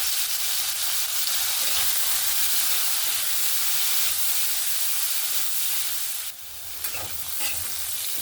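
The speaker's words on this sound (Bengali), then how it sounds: "এখানে আলু, গাজর আর মটরশুঁটিটা সুন্দরভাবে ভেজে নিয়েছি।" Potatoes, carrots and peas fry in oil with a loud, dense, hissing sizzle that stays steady, then dips briefly and flares with a burst of stirring near the end.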